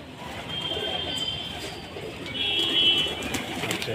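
Black Pakistani pigeons coo softly in a loft, low murmuring calls over quiet background noise, with a faint high tone running through.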